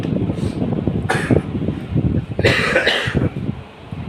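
A person coughs a few times in short bursts, close by, with some throat noise in between against a low background hum.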